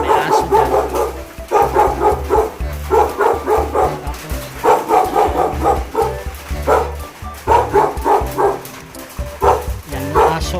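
A house dog in Baguio City barks repeatedly, loud and close, in quick bursts with short gaps between them. A person talks softly during the pauses.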